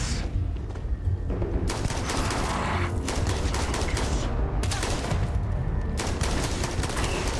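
Rapid gunfire crackles in Starfield combat, loud bursts of repeated shots coming in clusters, with brief gaps between volleys and no talking.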